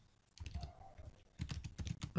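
Fingers type an email address on a computer keyboard at a checkout page, giving a quiet, close run of rapid key clicks in two bursts separated by a brief pause.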